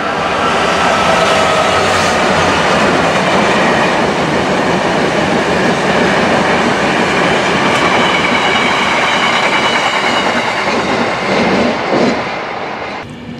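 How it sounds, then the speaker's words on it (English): A GBRF cement freight train running from Gloucester to Clitheroe passes through Stafford station. Its loud, sustained rumble and rail noise are close and steady throughout, with clickety-clack from the wagons and a slight fade at the end. "the Gloucester to Clitheroe cement train, has just gone through before this train arrived"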